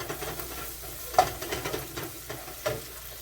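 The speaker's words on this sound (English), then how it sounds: "When you're sauteing, you always put the garlic for last." Garlic sautéing in a pan while a shrimp dish with Scotch bonnet cooks, giving a steady soft sizzle broken by a few louder stirring scrapes, close and fairly quiet with no talk.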